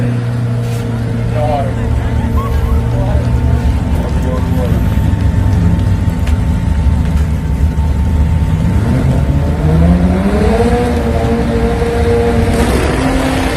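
Drag race cars pre-staged at the line rev and drone steadily, with a low rumbling roar and rising pitch sweeps near the end.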